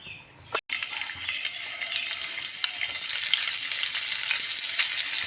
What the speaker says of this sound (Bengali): কড়াইটা গরম হয়ে গেছে একটু তেল দিয়ে দিচ্ছি এবার ফুলকপি